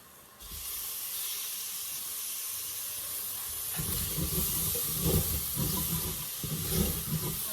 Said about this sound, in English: The next thing to go in is 3 chopped tomatoes.